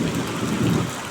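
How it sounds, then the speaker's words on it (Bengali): Heavy rain pours steadily during a late-May storm, with a broad low rumble that fits thunder rolling beneath the downpour, filling the whole stretch without a break. "আসমানের ডাক শুনুন"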